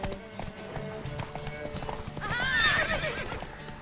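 In The Witcher 3 video game, a horse's hooves clip-clop at a gallop and it gives a loud whinny near the end, all under game music and faint voices.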